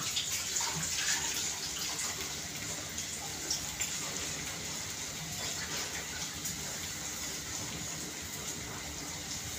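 Water poured off rice through a strainer, a continuous splashing, trickling rush close by and fairly steady throughout, with no talking.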